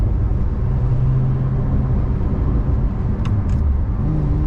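A Lotus Emira's engine holds a loud, deep, steady roar at high revs from inside the cabin, with dense low rumble throughout and a couple of faint ticks near the end.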